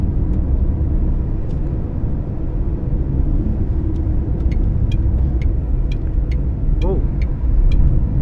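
A Tata Nexon CNG car cruising in fourth gear at about 80, heard from inside as a steady, loud low rumble of engine and road noise throughout, with a few faint clicks and a brief voice near the end.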